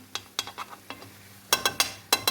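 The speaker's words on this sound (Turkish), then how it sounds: "Bu tarafını da kızartacağım ki" Food sizzles in a pan while a utensil scrapes and taps in short, sharp strokes, louder bursts coming in a quick series near the end.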